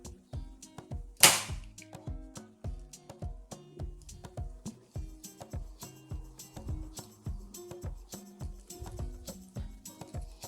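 A staple gun fires one loud, sharp bang into a piece of timber near the start, then a steady rhythmic ticking pattern continues in the background.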